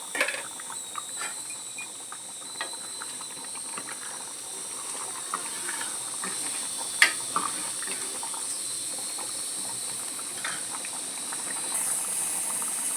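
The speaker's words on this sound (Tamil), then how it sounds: "நல்லா குழம்பு கொதிச்சிட்ருக்கு." Lentil kuzhambu (paruppu kuzhambu) simmers in a pot, giving a low, steady bubbling hiss with scattered small pops and one sharper tick midway, faint and continuous without voices.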